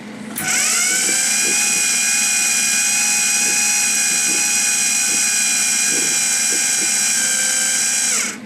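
A MIG welder feeding wire out through the torch with the nozzle and wire guide removed, a loud steady high-pitched motor whine that starts abruptly, holds for about eight seconds, then winds down.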